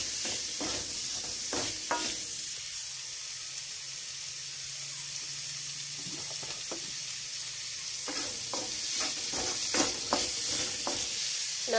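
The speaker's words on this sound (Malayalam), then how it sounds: "ചെറിയ ഉള്ളി ഒന്ന് നല്ലതുപോലെ വാടത്തെ, നല്ലതുപോലെ വാടാൻ വേണ്ടിയിട്ട് നമുക്കൊരു അല്പം ഉപ്പ് ചേർത്ത് കൊടുക്കാം" Small shallots sauté with a pinch of salt in a pan for a soya chunks roast: a steady, low sizzle runs throughout, punctuated by clusters of spatula scrapes and stirring clatter, fairly close and with no talking.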